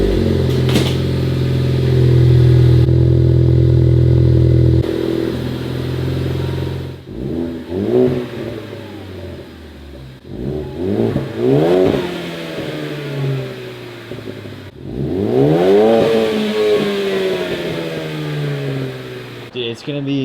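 A Ford Focus ST engine held at a steady loud idle, then revved repeatedly in sharp rising and falling bursts, close up with a low drone between revs.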